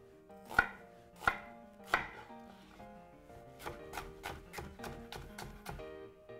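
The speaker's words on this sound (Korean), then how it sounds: "처음에 채를 썰어 주시고요" A knife slices onion and zucchini into thin strips on a cutting board, first with three slow, separate chops and then with a quicker, even run of lighter cuts, close and alone.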